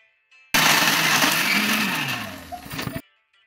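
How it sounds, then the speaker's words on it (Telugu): A kitchen mixer grinder whirs loudly, grinding raw coconut pieces for homemade coconut oil. It starts abruptly, runs steadily for about two and a half seconds with a slowly falling pitch, then cuts off. "కట్ చేసుకున్న పచ్చి కొబ్బరి ముక్కలను మెత్తగా మిక్సీ పట్టుకోవాలి"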